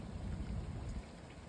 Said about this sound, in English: it's pouring down raining as y'all probably can hear